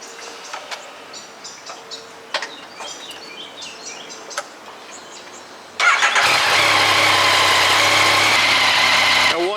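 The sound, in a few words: Yamaha MT-09 2020 motorcycle engine idling after oil change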